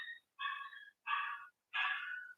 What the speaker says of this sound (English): My dog want to get out so bad, but I'm not just to let her out.